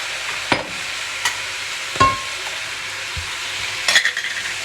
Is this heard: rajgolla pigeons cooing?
no